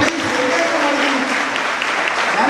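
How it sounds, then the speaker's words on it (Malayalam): Audience applause at a Gregorian music fest, a dense, loud, steady clapping from a crowd filling the whole stretch, with a faint voice or tone briefly audible beneath. "നല്ലൊരു കയ്യടി"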